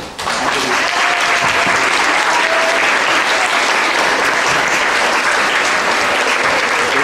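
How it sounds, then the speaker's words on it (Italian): Loud, sustained applause at a youth city council ceremony, many hands clapping at an even level after a brief quieter start, with no talk over it. "io farei un applauso."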